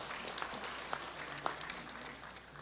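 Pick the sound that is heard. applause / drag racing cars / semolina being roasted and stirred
applause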